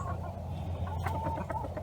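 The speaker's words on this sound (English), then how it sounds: "I actually have 2 roosters in there," Silkie chickens cluck softly close by over a steady low hum of farm background noise, with a few brief sharper calls near the middle.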